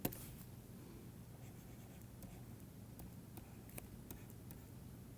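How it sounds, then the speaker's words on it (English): Chalk or a marker writes on a board in a lecture hall, producing faint scratchy strokes and light ticks over steady room noise, with no talk. "so let me just write this"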